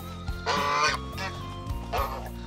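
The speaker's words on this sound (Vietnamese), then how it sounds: "Vịt ngan ngỗng, nó rúc." Geese and ducks honk loudly at close range on a Vietnamese-run poultry farm in Africa, several overlapping bursts of harsh nasal calls in quick succession, with no talking.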